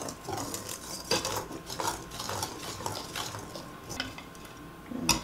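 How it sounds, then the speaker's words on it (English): A whisk scrapes and clatters through dry ingredients for lemon zucchini bread in a mixing bowl, with quick, irregular strokes repeating at close range and no voices. "we're going to whisk these until they're nice and smooth"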